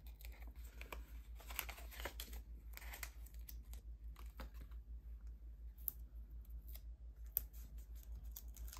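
Scissors snip along the edges of a paper craft card in a series of short, crisp cuts at close range, with light paper rustling and crinkling between them and no talking.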